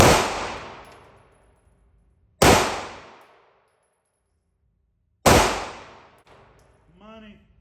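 Canik Mete MC9 pistol fired three times at a range, each loud sharp crack followed by a decaying ring, spaced a few seconds apart, with a faint metallic clink after the last shot.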